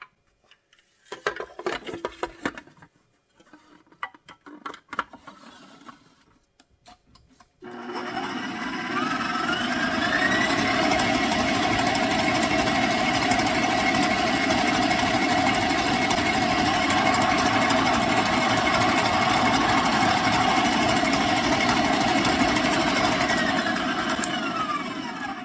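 An electric mixer beats jelly bean cookie batter. It starts with a few short, uneven bursts, then settles into a steady, loud whirring drone that holds for many seconds without pause.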